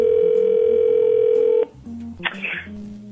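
A steady telephone tone sounds for about a second and a half at the start of a prank scam phone call, then cuts off, followed by faint line noise and a short burst of sound.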